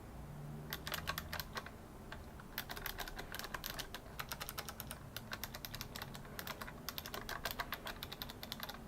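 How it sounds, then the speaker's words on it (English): Rapid, light clicky keystrokes tapped steadily on a Razer Tartarus V2 Chroma keypad with micromembrane switches, close and fairly quiet, in uneven bursts. "The Razer Tartarus V2 uses Razer new micromembrane switch, which is half membrane keyboard, half mechanical keyboard."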